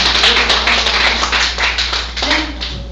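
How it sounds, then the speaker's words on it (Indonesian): A church congregation claps for Jesus, a brisk burst of many hands under a steady low hum, with a voice rising briefly near the end. "Kita tepuk tangan buat Tuhan Yesus."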